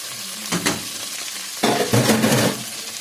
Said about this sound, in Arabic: شوحها كده، ننزل بصله صغيره مفرومه